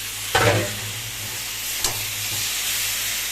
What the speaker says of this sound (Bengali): এবার আমি এটা সাতলাবো চিকেনটা